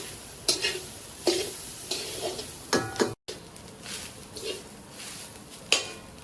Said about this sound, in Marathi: मी कांद्यात तेल टाकून घेतलं आणि कांदे भाजले